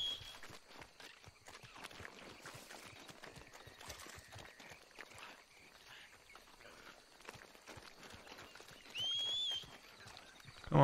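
Horse hooves clip-clopping in Red Dead Redemption 2, a faint, quick irregular patter of steps on soft ground continuing throughout, with a brief tonal whine near the end.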